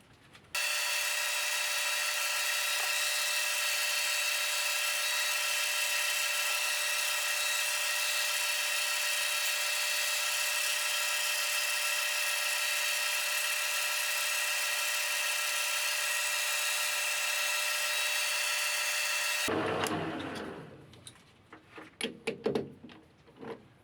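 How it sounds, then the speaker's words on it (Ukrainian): A lathe bores out the inner hole of a metal part, making a steady, bright, high-pitched cutting whine that holds evenly for about twenty seconds, then stops abruptly and is followed by scattered clanks and handling noises. "розточу внутрішній отвір"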